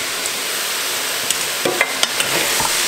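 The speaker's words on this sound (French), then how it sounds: "on ajoute l'oignon et les légumes et on va les faire dorer aussi à leur tour" Onion and vegetables frying in a pan with browned beef for a spiced stew, a steady hiss of sizzling broken by a few clicks and scrapes as everything is stirred together.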